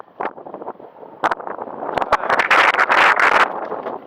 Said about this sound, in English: Wind is going to be a factor.